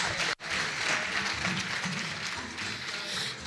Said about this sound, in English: Please, another round of applause for LNDC.